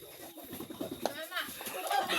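Chickens cluck in short bursts nearby, with people talking over them and a faint high-pitched call now and then.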